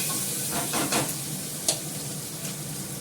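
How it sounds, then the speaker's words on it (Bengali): Onion fries in a pan with potato, sizzling in a continuous close hiss broken by a few soft stirring scrapes, with no talk. "এখানে পেঁয়াজটা ভাজছি"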